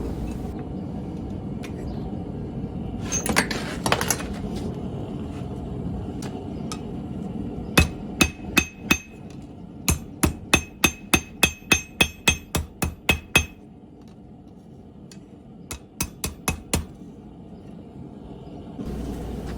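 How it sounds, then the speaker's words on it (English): A blacksmith's hammer taps a punch to drift a hole in hot metal for a wall hook, a run of sharp ringing metallic strikes in quick, even bursts, with quieter gaps between groups. "Coming back in with that punch and just kind of lightly tapping it in"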